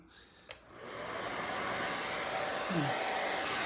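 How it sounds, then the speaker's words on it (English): A hair dryer switches on after a brief click and runs with a steady, loud whooshing roar, its pitch shifting slightly near the end, used to speed the drying of a stained glass piece. "I decided I'm going to use my wife's hairdryer."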